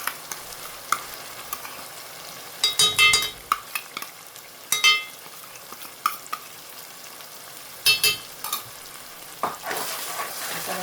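A spice masala of turmeric, red chili and coriander-cumin powder is stirred in a frying pan for stuffed bitter gourd. Soft sizzling runs throughout, broken by several louder bursts of spoon scraping and stirring, with no talking.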